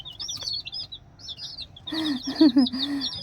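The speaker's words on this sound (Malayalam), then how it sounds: "നമ്മുടെ കോഴിക്കുഞ്ഞാണെങ്കിൽ ഇതാ" High, thin peeping chirps of chicks repeat in quick bursts, with a lower clucking sound joining briefly toward the end.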